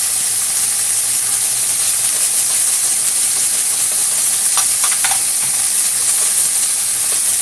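Dehydrated onion flakes being stirred into a tofu veggie scramble in a frying pan, giving a steady close sizzle and hiss with a few sharp scraping clicks of the utensil partway through; no talking.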